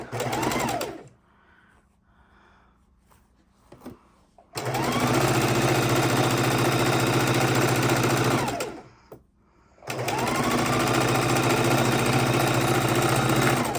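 A sewing machine stitching scrap fabric quilt blocks runs loud and close in two long bursts of steady whirring, separated by a quiet pause with faint handling sounds.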